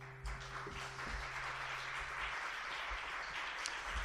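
Applause from a concert audience rises after a song, a moderate continuous patter of many hands clapping, while a low sustained tone fades out in the first half.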